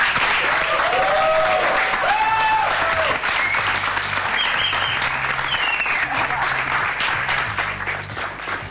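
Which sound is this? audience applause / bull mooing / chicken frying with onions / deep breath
audience applause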